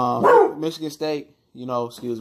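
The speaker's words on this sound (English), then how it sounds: "that's my dog." A dog barks a few times in quick succession, close and fairly loud, mixed in with someone talking over and around the barks.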